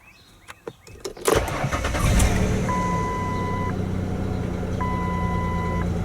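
A Ford Freestar van engine cranks briefly after a few clicks, then fires and settles into a loud, steady idle close by.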